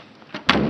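A house door pushed shut with a short thud, following a softer bump just before, close and loud with no talking.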